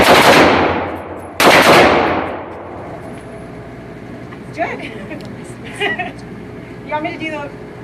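Two loud, close bursts of rapid automatic gunfire rip out in quick succession as a whole magazine is emptied, each ringing off before a few quieter clinks and brief voices follow.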